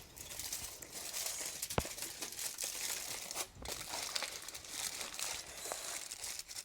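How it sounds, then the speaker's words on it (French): Aluminium foil is crinkled and pressed around a candy ball on a stick, close crackling and rustling that comes in uneven bursts with a sharp snap near the start. "tu peux prendre ton morceau de papier d'aluminium et tu vas venir enrober ta boule"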